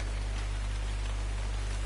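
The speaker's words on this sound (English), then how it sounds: "It's raining" Steady rain falls in the ARK survival video game, a constant even hiss of drops with no breaks, close and fairly loud, with no voices over it.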